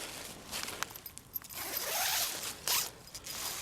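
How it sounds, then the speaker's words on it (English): The entrance zipper of an ultralight mesh tent is pulled open in several quick, close rasping runs, with soft rustling of fabric between them. "If I unzip"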